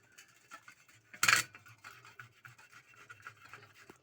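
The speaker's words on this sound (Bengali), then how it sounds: "কুড়ুনিতে আলুটা ম্যাশ করা হয়ে গেছে।" A boiled potato is mashed on a kuruni scraper for sabu puri, giving soft rubbing, scraping strokes with a brief louder metallic clatter partway through.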